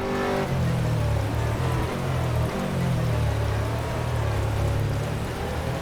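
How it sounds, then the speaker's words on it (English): Rain falls on a circuit in the rFactor racing game at Sepang, a dense constant hiss heard over the droning engine of an Aston Martin GT3 race car. "Can you hear the rain?"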